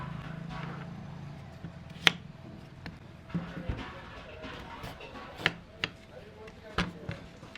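A knife slices tender bottle gourd into thin pieces, with several sharp, separate chops on a board spaced out over a faint low background hum.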